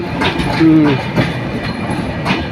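A passenger train bound for Nilsagar rumbles by with a steady rolling roar and faint rhythmic clacks, a brief squeal cutting through partway.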